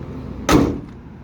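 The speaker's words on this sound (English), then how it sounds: "These doors on both sides open and close so nicely" A Chevy 3100 pickup truck door shuts once with a single solid, close thunk that fades quickly, with no talk over it.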